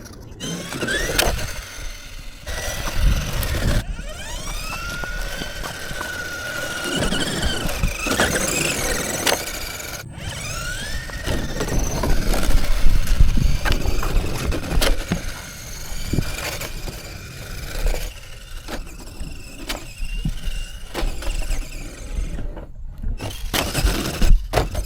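A 1:12-scale remote control drift car with a gyro, an EA86, drives around with a whirring electric motor, rising and falling pitch sweeps and scrabbling tire and squeal noises, continuous and busy throughout, with sharp clicks and bumps scattered along.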